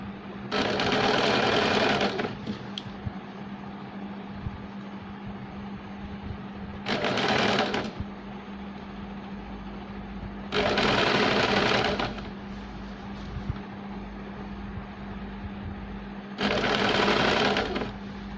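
A sewing machine stitches a seam on a baby's frill frock in four short bursts of fast, even needle chatter, each a second or two long, separated by quieter pauses over a steady low hum.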